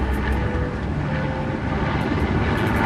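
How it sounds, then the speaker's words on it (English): Steady loud rotor and engine roar from a hovering Sea King helicopter at a naval display off Vizag, a dense continuous drone with faint rhythmic blade pulsing and no voices. "flying ఫ్రిగేట్గా ప్రసిద్ధి చెందిన seeking helicopter ఇప్పుడు జోన్ నుండి బృందాన్ని వెలికి"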